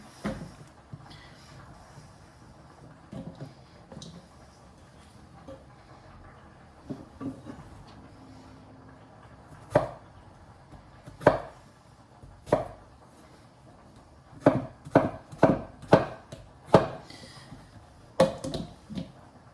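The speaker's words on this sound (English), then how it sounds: "then we turn it and we cut it so it's little bite-sized pieces. That's called diced" A knife dices carrots and other vegetables on a cutting board. Sparse, quiet taps give way to a busier run of sharp, close chops, irregular in rhythm, with no talking.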